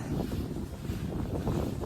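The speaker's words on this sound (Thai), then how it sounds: "พอเราถ่ายคลิปปุ๊บ ลมก็จะมานะคะ" Wind buffets the microphone outdoors in a steady, low rushing roar that carries through the brief stretch with no voices.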